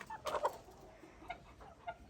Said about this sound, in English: Give Miss Chicken some and she ate it too